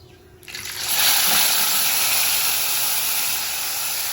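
A loud, steady sizzle bursts up suddenly and holds, a dense frying hiss close by, as a large labahita fish is dropped into hot oil.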